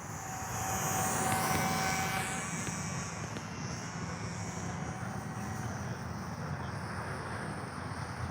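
A small JJRC W01 RC plane flies outdoors in wind, its thin buzzing motor whine passing overhead and fading under steady gusty wind rumble on the microphone.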